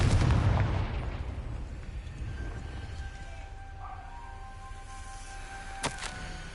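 Confringo fire spell cast in the video game Hogwarts Legacy, a loud booming burst at the start that decays into a rumbling tail, with a faint tonal hum and a small sharp pop near the end.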